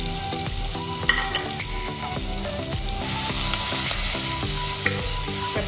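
Crushed garlic, crushed shallots and curry leaves sizzle loudly in hot oil in a Kerala kitchen, a dense continuous crackle with scattered spatters and spoon stirs, nobody speaking.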